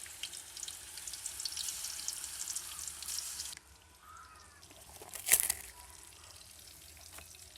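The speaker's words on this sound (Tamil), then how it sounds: "இது ஜஸ்ட் வந்து ஒரு ஷாலோ ஃப்ரை மாதிரி தான்" Marinated snakehead fish shallow-fries in oil outdoors, a close steady sizzle that drops sharply midway, followed by a sudden brief clatter and quieter crackling, with a faint bird call in the background.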